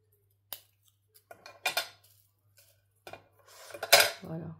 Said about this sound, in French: Je découpe tout ça.